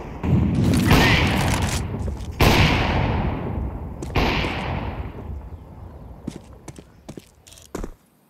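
Grenade explosions in Counter-Strike 2 gameplay: three loud, sharp blasts at roughly even intervals, each trailing off in a long rumbling decay, followed by a scatter of smaller distant pops and clicks.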